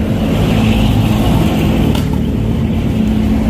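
A Macho TC125 tricycle engine fitted with a shark tip exhaust pipe revs loudly and close by, a rough steady drone with a brief sharp burst partway through.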